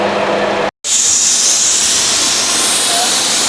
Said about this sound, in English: We're letting the air out.